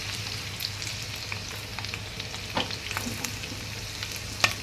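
Food fries in a pan with a steady close sizzle and crackle, broken by occasional small pops and stirring scrapes, with no talking.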